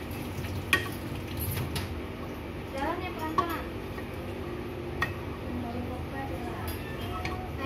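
Butter melting in a frying pan for an omelette sizzles steadily in a home kitchen, with occasional scrapes and taps of a utensil stirring against the pan. A voice talks nearby.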